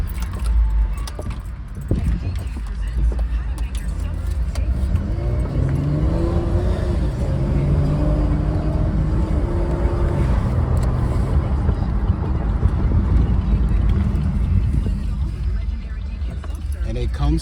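A 2015 Chevy Camaro V6 on a short test drive, steady engine hum and road noise from inside the cabin with a mild rise in revs midway, while a person talks.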